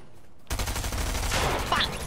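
A burst of gunfire in the video game Fortnite, loud and close, with rapid shots starting abruptly after a brief quiet moment and continuing densely to the end.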